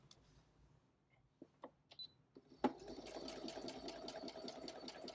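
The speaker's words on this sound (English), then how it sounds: "Now we're going to sew 8 layers of denim." A Brother SE1900 sewing and embroidery machine sews through eight layers of denim, with a few clicks and taps before a steady, rapid mechanical stitching hum that runs to the end with no talking.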